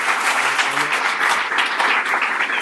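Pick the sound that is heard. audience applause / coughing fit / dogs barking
audience applause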